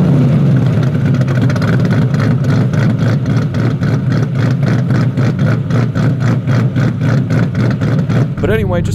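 A modified Ford Mustang fitted with aftermarket camshafts runs loud and close, its engine holding a throbbing, pulsing drone with a lumpy rhythm before the sound drops off abruptly at the end.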